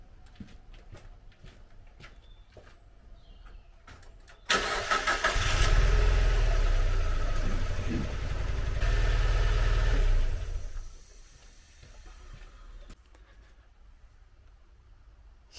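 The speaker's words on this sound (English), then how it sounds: "So on the laptop I'm going to start the car." A 2002 Mazda MX-5 Miata with an ECU fault cranks and catches, and its engine then runs loud and close for several seconds before cutting off abruptly, leaving quiet background with faint bird calls before and after.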